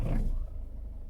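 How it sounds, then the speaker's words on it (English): A Peugeot or Citroen car engine, after an additive tank bypass, turns over and catches in a brief, loud, low rumbling burst that settles into a steady idle. "Start the engine."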